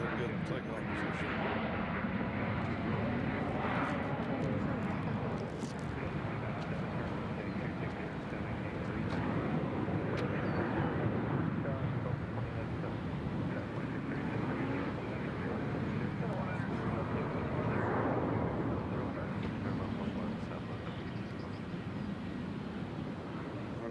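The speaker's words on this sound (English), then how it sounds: "Mexico 1 will be next to take off" An Aeromexico airliner takes off at Nashville International Airport. A broad, steady jet roar holds at a distance and swells slightly as it passes, while a voice talks over it intermittently.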